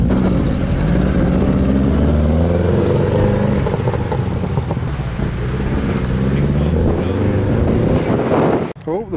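A Honda Civic pulls away at an outdoor car show, its engine a steady low rumble with harmonic drone under gusting wind on the microphone, fading near the end.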